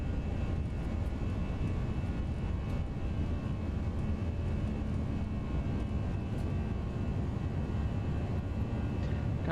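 Airbus A320 engines at takeoff power in the X-Plane 11 flight simulator, a FlightFactor A320 Ultimate departing Tampa International, produce a loud, steady, broadband roar that holds evenly throughout with no talk.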